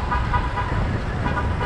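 Car horns honk amid New York City street traffic, short overlapping toots over a steady rumble of engines and road noise, heard close to a cyclist.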